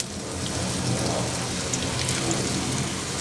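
Mash daal kababs shallow fry in oil in a pan, giving a dense, steady crackling sizzle that hisses evenly throughout without pause.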